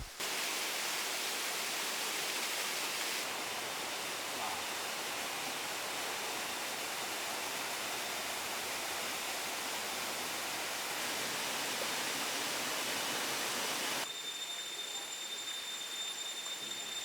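Waterfall in Thailand with a flight of steps up its side: a steady, dense rush of falling water fills the whole stretch, even and broadband without pauses, its brightest hiss fading slightly near the end.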